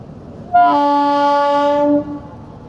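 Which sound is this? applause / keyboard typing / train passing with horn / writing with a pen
train passing with horn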